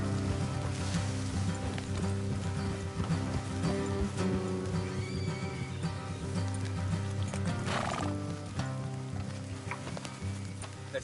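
Horses in the game Red Dead Redemption 2 whinny and snort near the listener while hooves clop and shuffle in an uneven rhythm, with faint game ambience around them.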